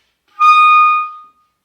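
A clarinet sounds a single high F, a bright sustained tone lasting under a second that begins sharply and tapers off, played solo and close with no talking.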